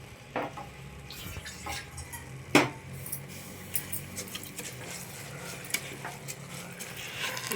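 Masala being stirred into soaked rice in a pan for Mandya-style khichdi, heard as soft, intermittent scraping and clinking of a spoon against the pan, with one sharper metallic knock and faint sizzling underneath.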